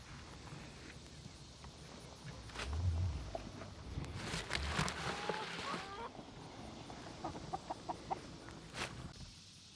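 Backyard chickens clucking and squawking excitedly as they are fed leftover tomatoes, a busy cluster of close bird calls with scuffling and movement.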